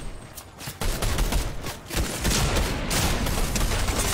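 Shotgun gunfire in a video game, dense bursts of loud booming shots and blasts following one another without pause, close and continuous.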